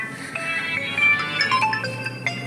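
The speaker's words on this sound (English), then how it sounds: "Oh, I got a phone call." A mobile phone ringtone plays a bright, repeating electronic melody for an incoming call, carrying over a steady low hum and background clatter at a kebab eatery in Chamchmal, northern Iraq.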